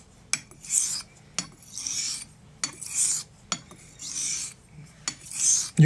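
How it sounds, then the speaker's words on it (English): A Thiers Issard straight razor is stroked across a flat sharpening stone in steady, evenly spaced passes. Each pass gives a close, loud rasping scrape with a sharp tap at the turn, about five strokes in all. "I'm actually torquing the razor into the stone."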